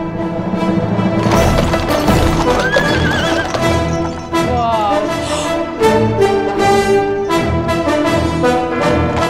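Horses neigh and whinny loudly in a Budweiser Super Bowl commercial, with repeated clip-clop hooves and dense layered sound around them.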